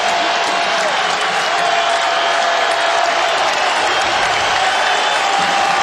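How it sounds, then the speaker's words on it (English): Crowd cheering at a college football game at Spartan Stadium, San Jose State, 2006, a loud continuous roar of voices and applause from a big stadium audience filling the whole stretch. "Crowd comes alive here at Spartan Stadium."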